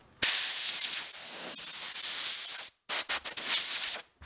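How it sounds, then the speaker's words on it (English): Compressed air blasts dust out of an old wooden piano bench before epoxy goes in, a loud, close, steady hiss that runs for over two seconds, then breaks into several short, sharp bursts and one final longer spray. "I'm also going to blow this out because there's a little bit of dust in here"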